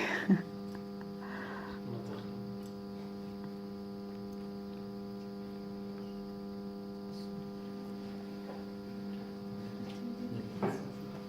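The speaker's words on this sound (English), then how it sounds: "The sound of the light." A steady electrical hum from a faulty light, with a low buzzing drone and faint overtones, runs unbroken throughout, with a couple of brief soft clicks near the start and end.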